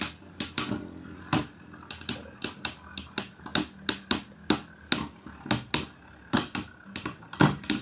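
Takara Tomy Beyblade spinning tops, including a Libra, clash in a battle, giving sharp hard plastic-and-metal clacks in a quick, uneven but steady string of close, loud hits with no talking.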